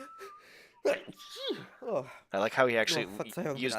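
Garrett, the player character in the video game Thief, lets out a sneeze with a rising inhale and sharp burst, then someone talks excitedly over the game sound.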